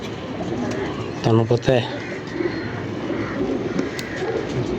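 Pigeons cooing in a loft, a pair of short, throaty warbling calls up close, with someone talking over the steady background.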